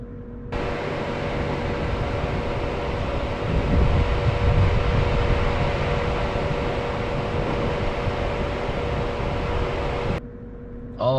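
Rivian R1T pickup's air suspension lowering its ride height, heard as a steady, loud whooshing hiss of venting air that runs continuously for nearly ten seconds before cutting off abruptly.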